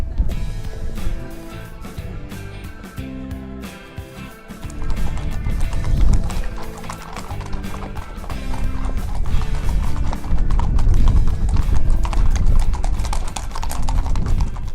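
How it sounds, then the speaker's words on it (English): Racehorses from a jumps-racing yard preparing for the Grand National clip-clop out of the yard, many hooves striking hard ground in a continuous, loud, uneven patter that swells toward the end, with an occasional whinny and no talking. "that's all the horses that have left the yard now"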